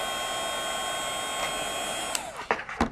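A heat tool blows steadily as it melts clear embossing powder, a constant close hiss and whine, followed near the end by a few soft clicks and bumps as it is handled.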